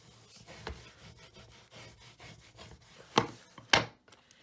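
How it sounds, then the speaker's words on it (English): Paper pop-up card being closed and burnished flat along its folds, a soft continuous rubbing and scraping close by with two sharper crisp swipes near the end, no talking. "And then I'm just going to close my card and burnish it down."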